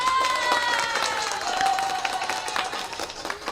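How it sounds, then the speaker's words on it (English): A prerecorded applause sound effect: a crowd's clapping and cheering swell continuously, a dense wash of clapping with whistles and excited shouts over it, steady and loud throughout. "I got some sound effects, so I'm just going to have to give Jeff an applause right now."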